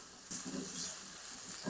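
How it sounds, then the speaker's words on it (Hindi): Garlic, ginger and green chilies fry together in a pan, a soft continuous sizzle that swells slightly after a brief quiet start, heard fairly faintly and close. "लहसुन अदरक और हरी मिर्च को भी ना तकरीबन 1 से 2 मिनट तक साथ फ्राई कर लेंगे"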